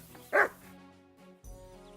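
A single dog barks once, short and fairly close, in the medieval video game Kingdom Come Deliverance II, followed by quieter game ambience and a low thud.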